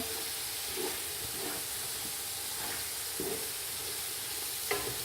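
Grated carrots for gajar halwa fry in a pan with a soft steady sizzle and hiss, punctuated by a few light scraping stirs of a spoon, fairly faint and without talk.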